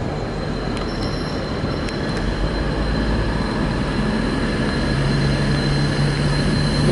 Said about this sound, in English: There's a locomotive up and as well, the locomotive's moving up.